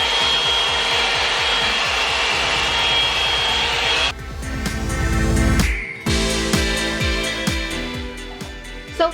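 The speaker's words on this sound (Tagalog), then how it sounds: "pwede niyo naman siyang hayaan munang nakaganon or ibagal-bagalan niyo lang yung pag-ikot niyo ng blow dryer" Revlon Salon One-Step hair dryer blowing a steady loud airy roar while styling hair, cutting out partway, then followed by rhythmic brushing or rubbing strokes and clicks.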